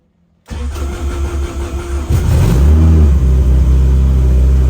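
A car engine cranks after a moment of silence, then catches and settles into a loud, steady idle close by.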